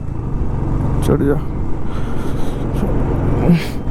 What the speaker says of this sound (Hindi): गाइस बहुत स्ट्रगल कर रही बाइक चढ़ने में।